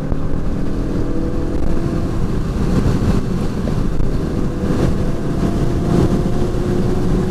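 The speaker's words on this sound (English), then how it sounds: "A hot lap in the Mazda 6." A 2014 Mazda 6 sedan on a hot lap around a race track gives a loud, continuous engine drone with steady road and wind roar, no pauses or talk.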